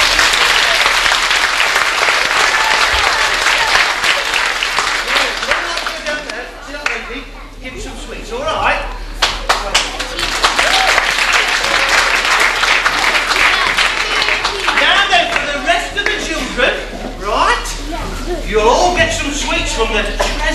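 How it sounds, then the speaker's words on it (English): A large studio audience gives a long, loud round of applause at a game show, dense continuous clapping with crowd noise and a speaking voice over it, swelling and dipping slightly over about twenty seconds. "I think they all deserve a big round of applause"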